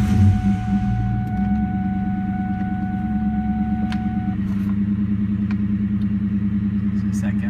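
A 2004 Ford Mustang GT engine settles into a deep, steady idle after a brief louder burst at the start, rumbling close and continuously with a faint whine fading out.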